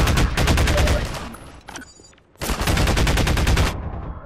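Rapid bursts of gunfire from Half-Life 2 rattle loudly in two long volleys separated by a brief lull.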